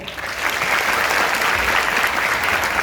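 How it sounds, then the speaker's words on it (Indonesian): An audience at a Maulid Nabi religious gathering breaks into applause, a dense, steady wash of many hands clapping that swells quickly and holds loud for the whole stretch. "Tepuk tangan dulu dong."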